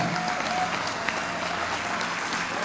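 A church congregation applauding together in acclaim of the Lord, a steady, even wash of clapping from many hands throughout.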